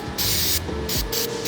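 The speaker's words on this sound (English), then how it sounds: "Spray gun cleaner." Spray gun cleaner sprayed in several sharp, loud hissing bursts separated by short pauses, over a low mechanical hum with no talking.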